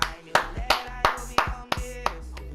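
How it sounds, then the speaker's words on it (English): Sparse, uneven hand claps, about seven sharp slaps spaced irregularly, close and fairly loud with a faint hum beneath. "Round of applause."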